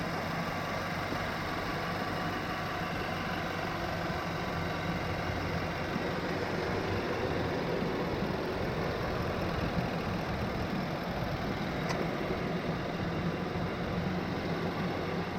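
A 2019 Nissan Titan PRO-4X crew cab's 5.6-liter dual overhead cam 32-valve V8 idles with a low, steady rumble. The hum stays even and moderately quiet throughout, with one faint brief click near the end and no talking.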